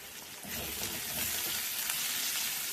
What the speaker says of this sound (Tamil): அப்படியே இதை வதக்கி போட்டுக்கலாம்